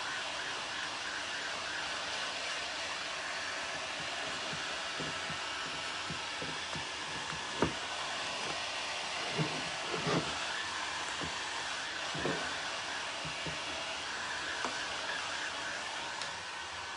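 A heat gun blowing hot air to dry paint, a continuous airy whooshing hum with scattered faint knocks and taps throughout.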